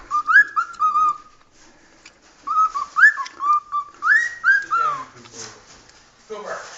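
Pet bird whistling at its own reflection in a mirror, giving bright, close, chirpy whistled phrases in repeated bursts separated by short pauses.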